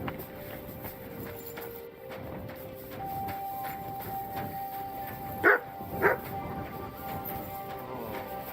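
Mutt the dog gives two short, sharp barks in the middle of the scene in Kingdom Come: Deliverance II, heard over a quiet ambient game background with faint voices.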